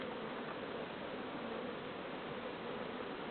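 Honeybees swarm around an opened beehive during colony splitting, a continuous, even buzzing hum that stays close and steady throughout with no talk over it.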